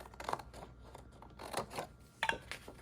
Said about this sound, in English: I'm going to take the scissors.